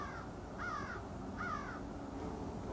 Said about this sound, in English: the birds at this time of the day. You can hear them in all directions.